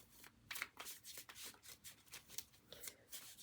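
Playing cards riffled and shuffled repeatedly at close range, a dense run of crisp papery flutters and soft slaps with no voices.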